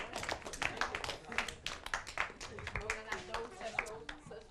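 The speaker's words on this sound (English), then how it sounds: "can we have a round of applause, please, for that group?" A classroom of students claps for a group, a burst of quick, scattered hand claps with voices talking over and between them.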